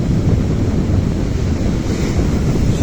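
Storm waves of about three metres crash and roar continuously on the sea shore at Divnomorsk, loud and close, with strong cold wind buffeting the microphone and no voices.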